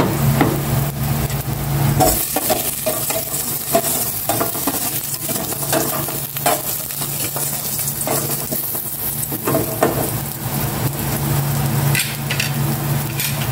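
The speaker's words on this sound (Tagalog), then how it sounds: "Gisa ko na tong luya." Ginger sautéed in a pan, a steady loud sizzle of frying with stirring scrapes and occasional clinks throughout, no talking.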